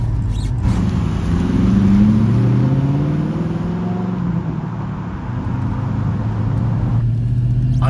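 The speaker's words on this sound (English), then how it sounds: "I wanted that V8 to have some grunt, it's got it." A Rover SD1 Vitesse V8 engine drones loudly while driving, its low rumble rising and falling in pitch as the car accelerates and shifts, heard steadily from inside the car.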